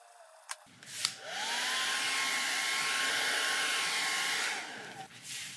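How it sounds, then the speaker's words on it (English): A hair dryer blows steadily for about four seconds to dry a freshly painted stencil, switching on with a rising whine and cutting off again, loud and close with no talking. "I blow dried that stencil to make sure that my stencil was dry"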